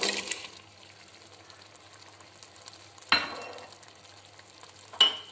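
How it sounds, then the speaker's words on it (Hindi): Potato pieces tipped into a pan of softened peas cooking for aloo matar pulao give a short burst of sizzle and scraping at the start, then a low simmer, with two sharp clanks of a spoon against the pot. "अब मैं इसमें आलू डाल दूंगी"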